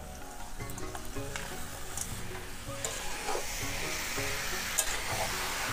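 Boiled banana flower goes into a hot prawn curry in the pan, and a loud, continuous sizzle follows, broken by scraping stirs and brief hissing spurts.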